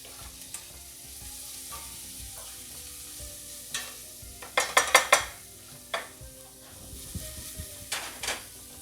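Italian red sauce cooking in a pot and being stirred, with soft scraping and a steady low sizzle, plus a brief burst of clattering spoon-on-pot knocks midway and a few more near the end. No one speaks.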